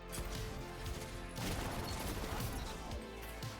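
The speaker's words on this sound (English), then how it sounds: "Oh, beautiful grenade." A grenade explosion in the video game Destiny, a dense, loud burst of blast and crackling debris that rolls on for several seconds amid ongoing gunfire.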